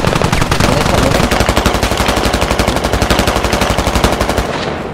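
Loud, close machine-gun fire from an enemy in the military shooter Squad, a long unbroken stream of rapid evenly spaced shots hammering on for nearly five seconds before cutting off.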